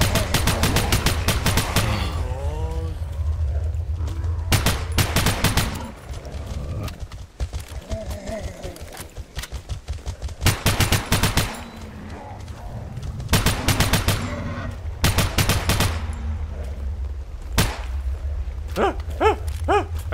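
Repeated bursts of heavy weapon fire from a big gun in the shooter game S.T.A.L.K.E.R., loud rapid volleys broken by short pauses, with fainter clattering and game noise between the salvos.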